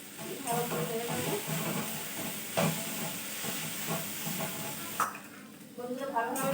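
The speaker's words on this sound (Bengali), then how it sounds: "ভালো করে নেড়ে নেবো।" Banana flower mixture sizzles and fries in a pan, stirred with repeated scraping strokes and a steady hiss, with a few sharper clinks of the spoon against the pan.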